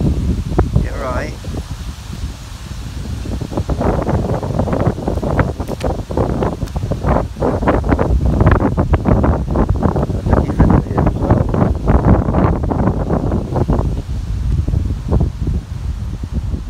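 Strong wind buffets the microphone beside a lake where swans gather, a loud continuous roar with gusting rustles throughout, while a person talks over it.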